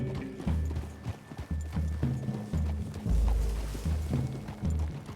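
Horse hooves clip-clop steadily at a walking pace in the video game Red Dead Redemption 2, several horses moving together through trees, moderately close under a soft ambient wash with no talk.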